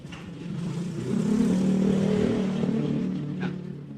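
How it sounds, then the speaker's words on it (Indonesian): An engine hums steadily after being switched on, swelling to a fuller, louder drone in the middle before easing slightly, with a faint rattle on top and no talking. "Mesin sudah ready."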